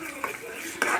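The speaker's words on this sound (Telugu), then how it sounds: "కారం వేసి కలుపుకోవాలి." A spoon scrapes and clinks against a pan as chili powder is stirred into cooking tomatoes, making two short, soft metallic knocks over a faint background.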